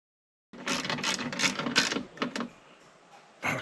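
Parts are tightened during a window regulator install on a 2003 Jeep Grand Cherokee, a close burst of rapid mechanical ratcheting clicks lasting about two seconds, then a brief pause and a short final burst.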